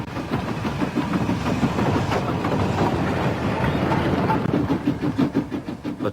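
A British steam freight train of mixed goods wagons rumbles steadily along the rails at about 20 to 30 mph with a rhythmic clickety-clack, a continuous heavy rolling noise with no voices.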